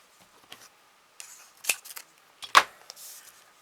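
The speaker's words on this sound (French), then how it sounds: "Voilà, un petit ciseau." Small scissors snip paper for a handmade card, a few sparse, sharp close-up clicks and cuts with soft paper rustling between them.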